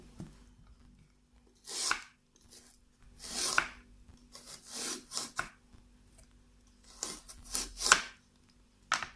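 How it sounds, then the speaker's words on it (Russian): Carrots being cut into long thin strips on a slicer for preserved zucchini, heard as close, quiet scraping strokes that come in irregular bursts with pauses between, no talking. "Морковку тоже нарезаем длинными полосочками."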